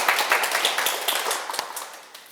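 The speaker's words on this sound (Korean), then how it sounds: "박수 한번 치세요" Audience clapping at a Buddhist lecture for a Buddha's Birthday talk, a brief scattered round of hand claps that fades toward the end, no voices over it.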